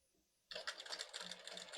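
A sewing machine starts up abruptly and rattles along rapidly, stitching the shoulder seam of a kameez with a fast, close, steady mechanical clatter after a brief quiet start.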